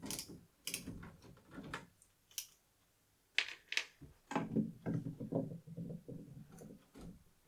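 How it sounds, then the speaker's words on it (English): A screw is undone from an air conditioning unit with a hand tool, giving faint, scattered mechanical clicks and light scraping with pauses in between. "so just undo that screw"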